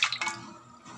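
Split fish is dipped into a basin of salt water, giving a brief close splash and a few drips that fade into quiet dripping over about a second.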